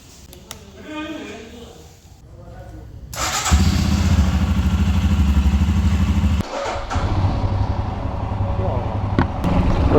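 A Royal Enfield Scram 411 motorcycle, after a battery and self-start fault was fixed, starts up partway through and then idles steadily and loudly up close, with a brief dip before running on.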